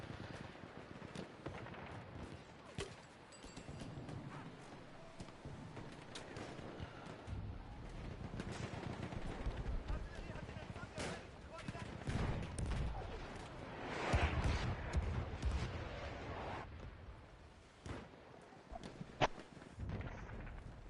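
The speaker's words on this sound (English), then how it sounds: "All right, artillery barrage is activated." A video game artillery barrage booms and crackles over a shifting battle din, with repeated explosive impacts and rumbling bursts rising toward a loud peak before easing off.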